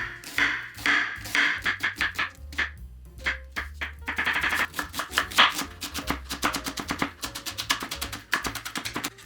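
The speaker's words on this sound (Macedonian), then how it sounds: "Го сецкаме кромидот за месото." Onion being chopped for minced-meat pasha kofte, a steady stream of crisp knife taps on a cutting board, close and clear, speeding into rapid bursts of fine mincing with no talk.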